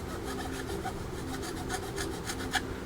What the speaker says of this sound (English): That sound is the sound of the file actually cutting into that edge.